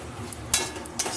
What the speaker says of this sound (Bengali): এইভাবে নেড়ে চেড়ে নিতে হবে